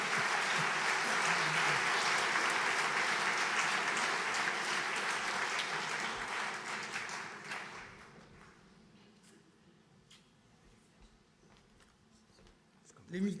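Applause at a foundation gala for its tenth anniversary, dense sustained clapping filling the hall for about seven seconds before thinning out and fading to sparse claps and room murmur.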